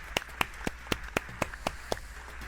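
A single person claps about ten times in a steady, even rhythm, fairly close and moderately quiet, with no talking, in celebration after finishing a Korean video game.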